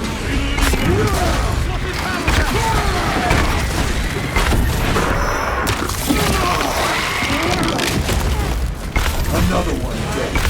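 A grenade blast in Warhammer 40K Space Marine 2 goes off amid dense battle noise: heavy booms, crashing impacts and clattering mechanisms, with voices shouting through the continuous loud din.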